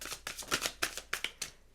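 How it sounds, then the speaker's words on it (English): A tarot card deck being shuffled, with a rapid series of crisp riffling and slapping card bursts in an uneven rhythm, close and fairly clear, with no talking. "I've been paying attention to how the deck shuffles"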